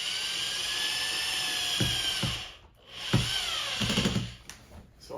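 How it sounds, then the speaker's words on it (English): A power drill whines steadily, then pauses and starts again in short bursts, close by, as a screw is driven into a wall to mount a floating shelf. "Now this bottom screw here is really easy to drill in."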